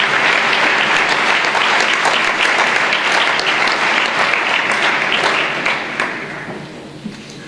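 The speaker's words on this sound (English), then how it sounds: "Give her a round of applause, please." A school speech day audience at Queen Ethelburga's College claps in steady, dense applause that fills the hall, holding strong for about six seconds before tapering off toward the end. No voices are heard.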